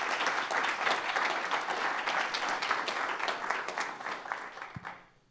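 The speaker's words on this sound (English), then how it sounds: "So a big round of applause for Mike and Colorado Lending." Audience applause at a small-business pitch competition final, dense sustained clapping from a crowd that stays steady for several seconds and then tapers off and fades out.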